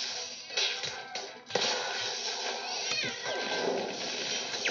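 Electric cat creatures in the video game CrossCode let out short, strained meows and yowls over a steady bed of game music and ambience, fairly quiet throughout.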